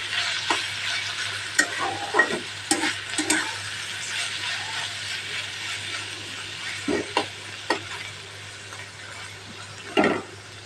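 Bitter gourd with green chillies frying in a pan, a soft continuous sizzle under a low steady hum, punctuated by irregular scraping stirs of a utensil, close and moderately quiet, with no talking.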